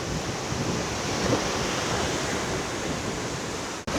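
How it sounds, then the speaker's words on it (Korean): Loud night wind at Jomtien beach in Thailand roars as a steady broadband rush close to the microphone, continuous for several seconds before a brief dropout near the end. "와, 바람 소리 엄청 크게 들어가겠네."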